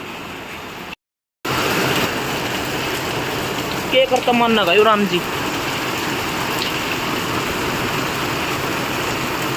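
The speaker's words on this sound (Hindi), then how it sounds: "कितनी जोर तो बारिश आ गई।" Heavy rain pours in a steady, loud broadband hiss throughout, with a brief dropout near the start and a voice speaking briefly over it.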